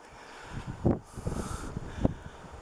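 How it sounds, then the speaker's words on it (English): Wind gusts buffet the microphone in a few uneven thumps and rumbles, with a soft rustle in between. "Bit of a breeze picking up here now."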